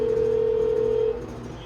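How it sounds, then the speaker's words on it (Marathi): Apartment society main-gate intercom dial box calling a flat, a single steady electronic tone lasting about a second and then cutting off, leaving a quiet room hum. "आणि गेस्ट आल्यास ते सोसायटीच्या मेन गेटवर या अशा डायल बॉक्सवरून तुम्हाला कॉल करतात."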